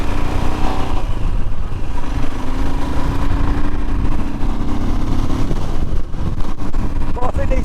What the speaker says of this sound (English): the more miles you do, the better the engine gets.